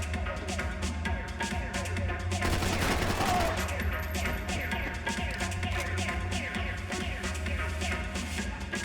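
Gunfire in the video game Max Payne 3: rapid, repeated shots and bursts crackle densely over a continuous loud game soundscape, with the shooting steady throughout.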